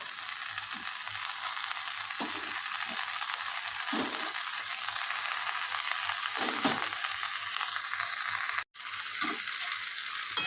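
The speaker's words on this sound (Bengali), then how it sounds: "লাউ শাক শাকটা হালকা করে ভেজে নেব" Bottle gourd greens (lau shak) frying in oil with spices, a steady close sizzle with occasional stirring scrapes and a brief dropout near the end, no talk.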